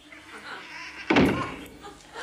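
A door thuds shut once, a sudden heavy knock in the middle of the clip, with murmured voices in the background before and after.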